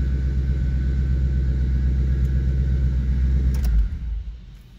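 A 2014 Ford Mustang's engine runs with a loud, steady low rumble close by, then cuts off abruptly near the end, leaving a fading tail.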